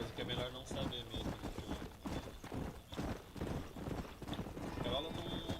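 Horse hooves galloping in the video game Red Dead Redemption, a rapid rhythmic clip-clop with occasional whinnies and wind, while a person talks over it.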